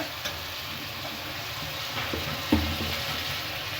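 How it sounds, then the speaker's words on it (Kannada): Chopped onion and tomato fry in a pan after mustard seeds, a soft steady sizzle running throughout, with a couple of faint stirring scrapes and one sharper knock near the middle. "ಈಗ ಇದನ್ನು ಕ್ಲೀನಾಗಿ ಫ್ರೈ ಮಾಡ್ಕೊಳ್ಳೋಣ"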